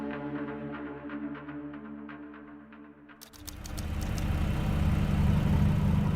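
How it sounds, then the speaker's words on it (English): Steady low diesel engine hum inside the cramped hull of a narco submarine, first a smooth droning tone, then after a few seconds a louder, rougher broadband rumble that stays constant. "Every so often, the low hum of the diesel engine pulses through the hull as it pushes them forward at 16 kilometers per hour."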